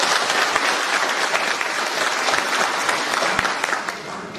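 Dense, steady applause from the audience at a Kemah association general assembly fills the whole stretch, loud and close with many hands clapping at once, easing slightly toward the end.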